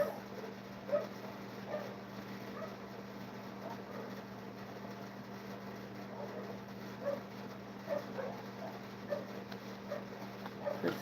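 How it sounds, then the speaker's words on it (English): Several dogs barking far off in an outdoor setting, faint scattered barks and yips over a steady low engine-like hum, with no talking. "You hear them dogs?"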